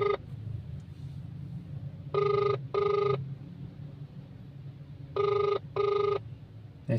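A phone call rings back on the line, with two pairs of short electronic double-ring bursts separated by a few seconds of quiet, heard close and clear over faint background hum.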